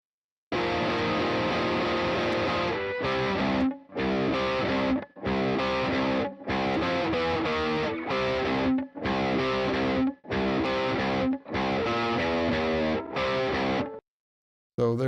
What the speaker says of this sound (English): here is the right side, more distortion on the bridge pickup